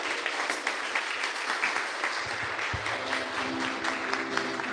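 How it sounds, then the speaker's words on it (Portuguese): A church congregation claps together in a steady, sustained round of applause for several seconds, moderately loud across a large room, while a low musical tone begins underneath partway through. "Uma salva de palmas para o Senhor Jesus"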